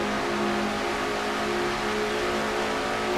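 A stock car engine in a racing video game holds a steady high-pitched roar near 9,000 RPM, loud and continuous with no break.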